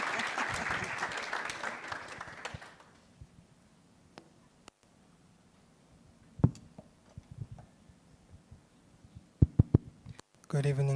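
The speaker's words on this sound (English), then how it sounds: "Please give him a round of applause." Audience applause at an alumni gathering, a broad wash of clapping for about three seconds that then fades into near quiet broken by a few isolated knocks and taps.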